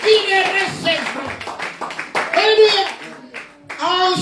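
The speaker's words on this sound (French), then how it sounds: "Applaudissez pour les prophètes." Congregation at a Sunday church service clapping for the prophets, scattered hand claps heard close alongside children's voices and other speech.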